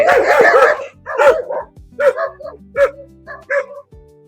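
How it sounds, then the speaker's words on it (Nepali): Several dogs bark in an alley, a loud burst of overlapping barks at first, then repeated single barks and yips at close range, with no talking. "यो गल्लीमा चाहिँ कुकुरहरू धेरै हुन्छ क्या"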